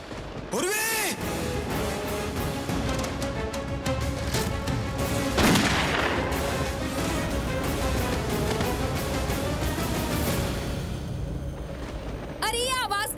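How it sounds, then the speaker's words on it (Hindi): A gunshot rings out in a Hindi TV drama scene. Booming, blast-like hits sound amid a dense, loud dramatic score, with voices talking over it. "ये तो गोली की आवाज है।"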